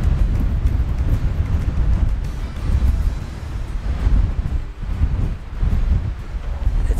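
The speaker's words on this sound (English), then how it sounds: "I know it's a little windy" Steady wind buffeting the microphone outdoors on a hike in Glacier National Park, a continuous low roar that rises and dips slightly throughout.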